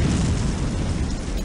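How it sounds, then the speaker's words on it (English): A loud, sustained rumbling blast in the horror video game Clive Barker's Undying, a dense low roar filling the whole moment without pause, heavy and close, with no talking over it. "Is that an explosion?"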